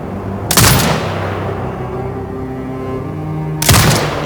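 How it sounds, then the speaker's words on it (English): Turret gunfire in the video game Sniper Ghost Warrior Contracts 2, with two loud, sharp blasts about three seconds apart, each followed by a rumbling decay. "Exit binocular mode and command the turret to fire."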